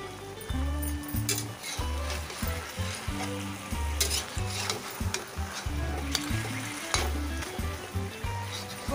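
Beef pasanda, marinated with kewra water, fries and is flipped in a pan at medium-high heat. A loud, steady sizzle carries spatula scrapes and stirring over a rhythmic music bed.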